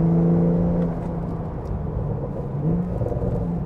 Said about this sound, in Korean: 이 스포츠 배기를 활성화시키면 성격이 확 바뀌어버립니다